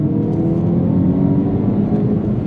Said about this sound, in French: Effectivement, le rupteur est très efficace.